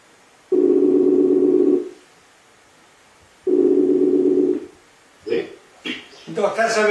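Two long steady telephone tones on a call, each lasting over a second with a pause between, followed by the start of a voice answering.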